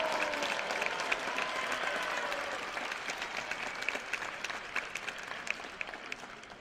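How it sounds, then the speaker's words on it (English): An audience at an esports spring celebration gives a sustained round of applause, fairly distant and soft, slowly thinning toward the end. "Let's give them a round of applause"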